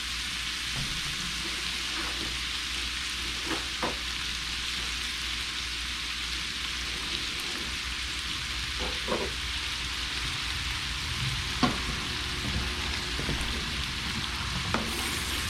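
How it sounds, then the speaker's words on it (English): Vegetables hitting a pan with browning andouille sausage at a camp stove set a steady, close sizzle running the whole time, with a few scrapes and clicks of stirring breaking through now and then. "Right when that sausage starts getting a little brown, go ahead and add our veggies"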